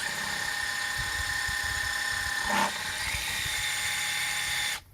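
A power drill's steady high-pitched motor whine runs continuously close by as it drives screws without pre-drilling, with a brief louder surge midway before cutting off abruptly at the end.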